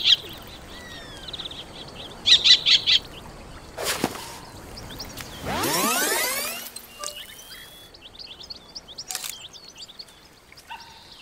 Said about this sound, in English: I would open the nature journal and play the call of a bird, and immediately hear it nearby